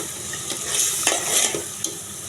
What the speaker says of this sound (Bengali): এবার আমি মাছের মাথাগুলো দিয়ে দিচ্ছি